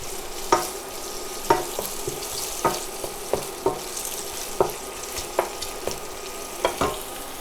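Thin pre-sliced bacon sizzles in a pan as it crisps and renders fat, a steady frying hiss broken by sharp pops and spatters at irregular intervals.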